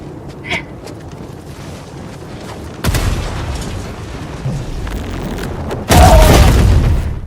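Explosions in the video game Helldivers: a sharp blast booms in and keeps rumbling, then a second louder deep boom follows, both close and heavy, with no speech.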